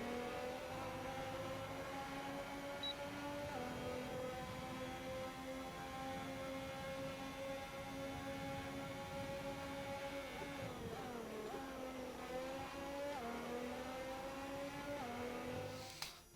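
F1 race cars in a video game at the Bahrain circuit, a sustained high engine whine with harmonic tones rising and falling as the cars accelerate and shift, steady and fairly faint, ending abruptly.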